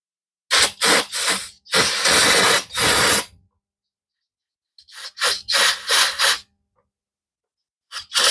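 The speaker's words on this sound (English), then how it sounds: "Let me blow this out with some brake clean before I reinstall it." Brake cleaner sprayed from an aerosol can to blow dust out of an AC compressor part on an LS-swapped C3 Corvette, in three loud hissing bursts, a pause, then three more, with another starting at the end.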